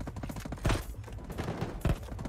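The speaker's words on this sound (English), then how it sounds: "Two of them shooting at me." Fast bursts of gunfire from the mobile shooter Battle Prime, a couple of sharper shots standing out over continuous quieter firing in the background.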